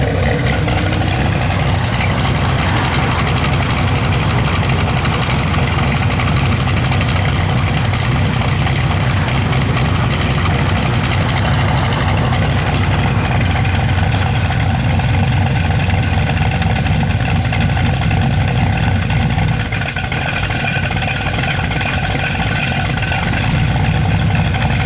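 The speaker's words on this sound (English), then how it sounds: "Yeah, car's got a great sound." A 1969 Chevrolet Chevelle SS idles close by, its engine a loud, steady, deep rumble that holds evenly from start to finish with only a slight dip late on.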